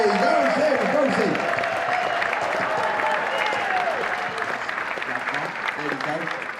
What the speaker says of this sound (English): Let's let the claps die down.